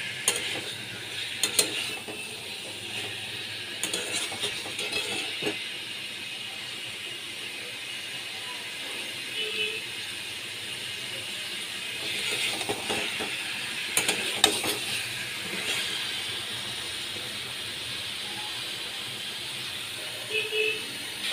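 Potato, egg and cauliflower stir-fried in a pan, a soft continuous sizzle broken by periodic scraping and clinking of a spatula stirring against the pan.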